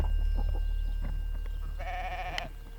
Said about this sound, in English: There's little sheeps all around me right now, and they're singing me a song.